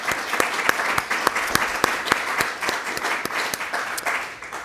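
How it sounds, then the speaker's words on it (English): Audience applause at a spring honors thesis presentation session, a steady round of clapping for student presenters with sharp individual claps standing out over a dense, even wash of hands throughout. "I just want another round of applause for our student presenters"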